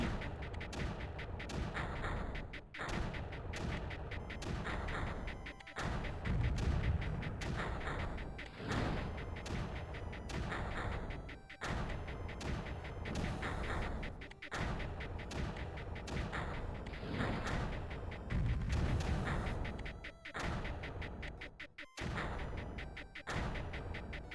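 Explosions and weapon fire in the strategy video game Creeper World, a dense, continuous barrage of booms, thuds and rapid blasts in overlapping rhythm, loud and unbroken across the whole stretch with no talking.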